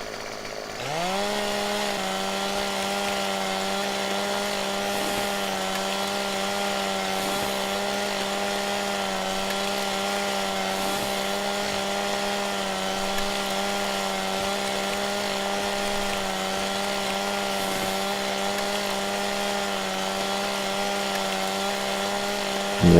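A video-game chainsaw in Farming Simulator 17 buzzes through trees, one steady unbroken drone at constant pitch after a quick start-up, loud and close with no voices.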